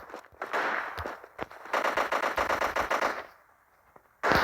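Rapid bursts of gunfire from a gun in the Kuboom shooter video game, loud and close, firing in a tight automatic rhythm with a few separate shots before and a brief pause near the end.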